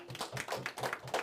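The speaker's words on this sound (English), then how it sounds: "You all give yourselves a round of applause." A few people clap in a short, faint burst, about six or seven distinct claps in a loose rhythm, heard at a distance in a quiet room.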